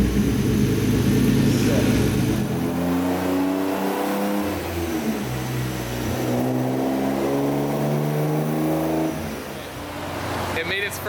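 A BMW E36 M3 with an OBD1 individual throttle body conversion revving hard on a dyno pass, the engine note climbing steadily through the rpm range, loud and close, then easing off and rising again.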